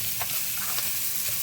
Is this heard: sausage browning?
yes